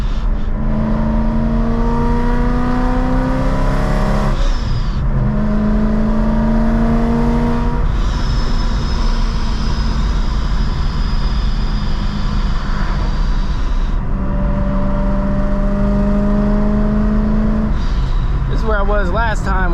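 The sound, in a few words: Procharged BMW M3 engine revving under throttle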